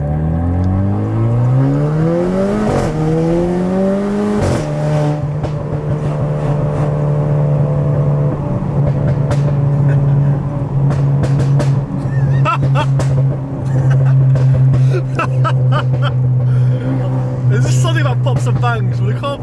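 A Renault Clio RS Mk4 tuned to 250bhp runs with nobody on the throttle, its engine rising in pitch, dropping back and then settling into a steady loud idle drone, with sharp clicks and ticks on top and people talking nearby.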